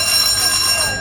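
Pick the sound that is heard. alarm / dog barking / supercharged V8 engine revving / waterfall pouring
alarm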